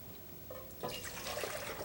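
Tap water runs and splashes into a cooking pot as two cups are measured out for homemade miso soup, a steady close trickle that builds and brightens partway through, with no talking.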